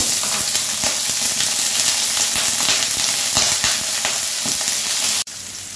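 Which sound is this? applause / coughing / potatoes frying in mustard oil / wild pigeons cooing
potatoes frying in mustard oil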